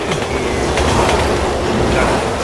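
A train in Resident Evil 6 rushes close by with a loud, continuous rumbling roar and clattering wheels, steady throughout.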